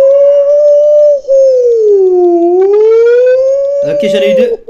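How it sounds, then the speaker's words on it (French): A loud, close fire engine siren in GTA 5 or Fortnite wails steadily, dipping and rising again in pitch, while a voice speaks briefly over its end. "C'est la sirène des pompiers."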